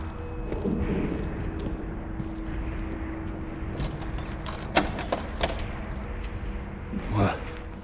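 A bunch of keys jangles in the video game Dishonored 2, with a couple of bright metallic clinking bursts standing out over a low ambient rumble, and quiet voices around them.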